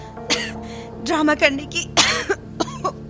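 A woman coughs repeatedly in a Hindi romantic audio story, several harsh bursts and throat sounds scattered across the moment, mixed with brief spoken lines and light background music.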